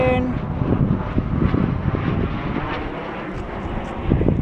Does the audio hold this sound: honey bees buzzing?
no